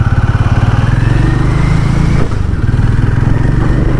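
A Hero Maverick 440 motorcycle engine thumps steadily while riding, its pulsing single-cylinder beat loud and close against rushing wind noise.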